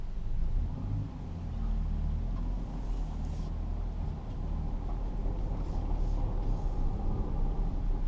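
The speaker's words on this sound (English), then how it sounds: "So there's just a few farm lanes around here." A 2010 Jeep Patriot rolls down a farm lane, its engine and tyres making a steady low rumble heard from inside the cabin, with faint road noise and small rattles throughout and no voices.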